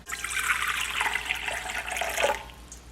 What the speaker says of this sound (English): add 1 1/4 cup of warm water between 105 to 110 degrees.